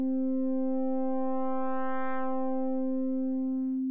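A pulse-width waveform from the Bitwig Phase-4 synthesizer plays as a steady, sustained buzzy tone with a bright harmonic shimmer that swells briefly in the middle.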